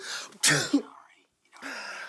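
A single sharp, close sneeze bursts out between stretches of quiet talking.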